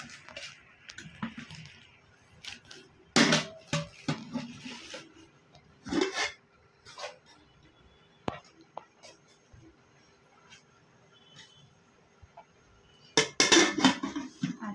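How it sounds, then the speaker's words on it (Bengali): Rice is served onto a plate at home, with intermittent scrapes and clinks of a spoon against the dish, some sharper knocks, and soft talk and whispering underneath. "এই যে ভাত বাড়ছি।"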